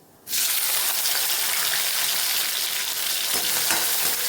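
Chopped tomato hits hot oil seasoned with cumin seeds, bursting into a loud, steady sizzle that holds without pause after a quiet start.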